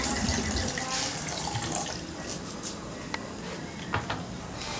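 Water is poured from a tap into a kitchen blender holding newspaper for making seed paper, a steady running splash heard close and alone.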